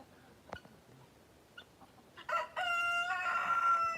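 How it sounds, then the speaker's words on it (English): A handsome farm rooster named Friendly crows loudly and close by. The call swells into a long, sustained cock-a-doodle-doo that lasts through the second half, after a few scattered clucks and knocks. "Friendly is such a handsome rooster."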